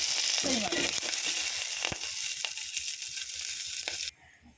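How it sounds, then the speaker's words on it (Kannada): Garlic, curry leaves, cumin, pepper and fenugreek frying in hot oil for a village-style pumpkin and field-bean bassaru, a dense close sizzle with crackling spits that stops abruptly near the end. "ಎಣ್ಣೆ ಕಾದಿದೆ ಒಂದು ಪಾತ್ರೆಯಲ್ಲಿ ಎಣ್ಣೆ ಇಟ್ಟಿದ್ದೀನಿ ಮಸಾಲೆ ಹುರಿಕೆ"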